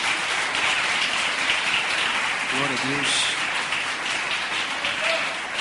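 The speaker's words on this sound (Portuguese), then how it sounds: "Então dê uma salva de palmas para o Senhor Jesus" Sustained applause from a church congregation fills the space, with a voice briefly speaking partway through.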